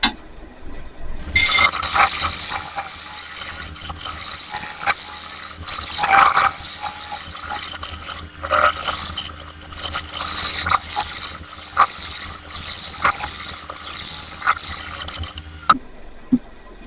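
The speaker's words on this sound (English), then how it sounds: "My negative rake scraper. And just clean up those tool marks I've got in the bottom." Negative rake scraper cleaning tool marks from the bottom of a live oak and resin piece: a steady, close rasping scrape in long continuous strokes with short pauses, loud and dry with no talking.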